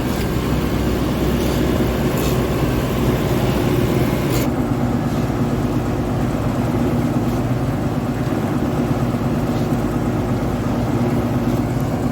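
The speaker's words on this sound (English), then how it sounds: "So this is our bale grinder, and we grind the round bales." A farm bale grinder chews through round hay bales with a loud, continuous mechanical roar and rumble that shifts slightly in tone partway through, with no speech.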